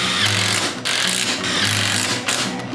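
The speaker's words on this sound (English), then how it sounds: "Let's mount the filter flange on top. So we're gonna just put that on there. We're gonna just attach it with screws." A power tool drives screws to fasten the filter flange on top of an EF5 Clear Vue cyclone dust collector, a loud, close whirring buzz in a few sustained bursts with short pauses between them.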